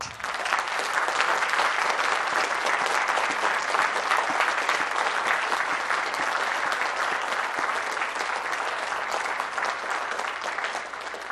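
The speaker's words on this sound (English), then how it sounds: "can we give one huge round of applause for every single musician on this stage?" Audience in an auditorium applauding the musicians of a symphony orchestra at the end of a concert, with sustained, dense clapping that holds steady for the whole stretch and no voices rising above it.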